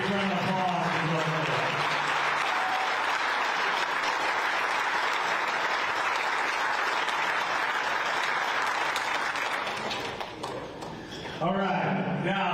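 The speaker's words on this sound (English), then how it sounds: "Big round of applause for Doug" A crowd at a golf championship pairings party breaks into a long, loud round of applause that swells and holds. A voice is heard just before it starts and again as it fades.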